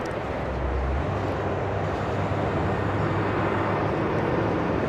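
Alaska Airlines 737 MAX 9 jet at LAX, a steady broad roar of engine noise that stays loud and even throughout, with a low rumble underneath and no voices.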